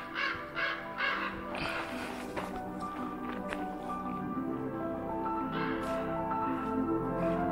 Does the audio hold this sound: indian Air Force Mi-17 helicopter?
no